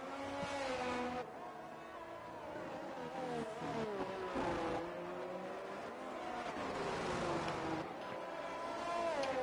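Racing car engine droning steadily on track in a racing game at Portimao, with shifting harmonic tones as it accelerates and changes gear, loud and continuous throughout.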